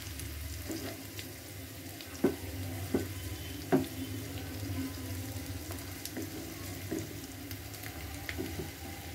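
Paneer frying in a pan gives a steady, soft sizzle throughout, with a few sharp clinks from stirring near the start and middle. No one speaks.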